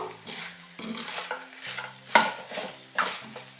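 Dry chicken sukka being stirred and fried in a pan, a spoon scraping and knocking against the metal in uneven strokes over a low sizzle, close and moderately loud, with a faint tonal background underneath and no talking.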